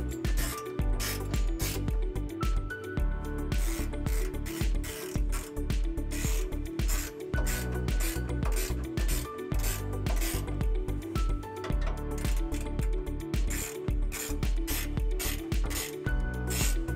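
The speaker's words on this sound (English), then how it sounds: "we'll go ahead and tighten them down using a 13 millimeter socket" A ratchet fitted with a 13 mm socket tightens trailer hitch bolts under a Chevy Colorado pickup, giving steady runs of quick, close mechanical clicks through the whole stretch without any talking.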